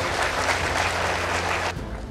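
Audience clapping at a 2024 project expo, a dense steady burst of applause that cuts off abruptly near the end.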